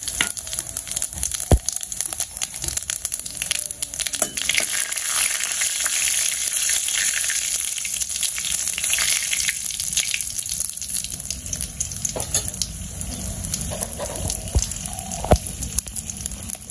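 Dried red chillies and cumin seeds crackle and sizzle in hot oil with a loud, continuous hiss, broken by a few sharp pops and occasional stirring.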